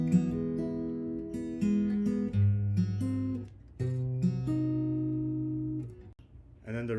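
Chords from a song ring out on guitar, a steady strummed and picked progression played alone and fairly quietly, with several chord changes and a brief pause near the end.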